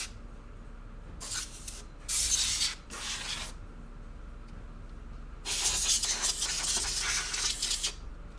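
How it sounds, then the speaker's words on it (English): Compressed air can blasting short bursts into a gaming PC during cleaning: three quick hissing sprays followed by a longer sputtering burst, close and fairly loud, with no talking. "Just do like short bursts and hold the can absolutely as still as possible when you're shooting air out."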